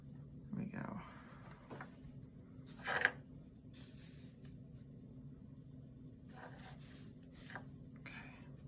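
A 4B graphite pencil shades a dark area on paper in a few separate bursts of soft, scratchy strokes, close and quiet.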